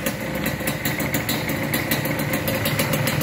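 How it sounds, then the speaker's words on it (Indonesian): A Suzuki TS125 motorcycle engine idles steadily up close, a loud, even rapid putter with a crisp mechanical rattle throughout. "ini posisi mesin hidup, stasioner normal."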